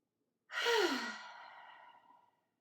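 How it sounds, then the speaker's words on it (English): A single deep cleansing breath during a livestreamed yoga and meditation session: a quick voiced onset that eases into a long, airy exhale and fades into silence, close and quiet. "a cleansing breath."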